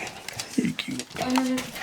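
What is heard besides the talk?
small dog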